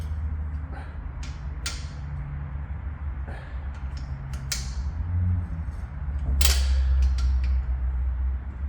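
Bolts being tightened on a 10-bolt Salisbury differential during a Harrop Truetrac install, with repeated creaking ratchet strokes over a steady low hum and sharp metallic clicks scattered throughout.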